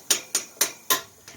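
Four sharp metallic taps from a hammer striking a Chevrolet LT-1 engine, evenly spaced and close by, with a softer fifth tap at the end and no talking.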